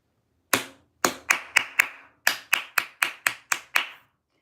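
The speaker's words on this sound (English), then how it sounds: "So now we clap the rhythm" A single person claps out a song's rhythm, about twelve sharp, close hand claps in an uneven pattern with short gaps between phrases, alone in a quiet room.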